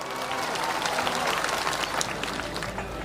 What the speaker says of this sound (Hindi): इसलिए एक बार जोरदार तालियां आप सबके लिए।